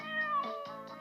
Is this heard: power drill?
no